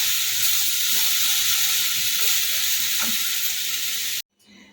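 A vegetable momo filling fries in a hot pan while being stirred, giving a loud, steady hiss and sizzle with faint scraping strokes, which cuts off abruptly near the end, leaving quiet.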